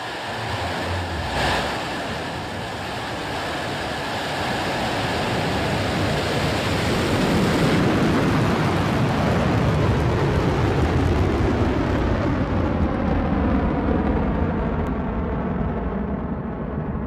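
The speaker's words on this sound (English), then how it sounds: "Mission Control has confirmed New Shepard has cleared the tower on her way to space from West Texas." A Blue Origin New Shepard rocket launching from West Texas: a continuous broadband roar that swells and holds steady, its higher hiss gradually fading as the vehicle climbs away.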